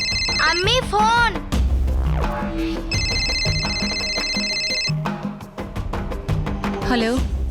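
A telephone rings in a domestic TV drama scene with two long electronic trilling bursts, loud and close, set against background music and other sounds.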